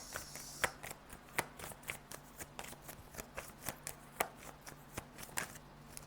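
Tarot cards are shuffled and drawn by hand, giving a close, steady run of crisp riffling snaps and flicks, roughly two or three per second, with no talking.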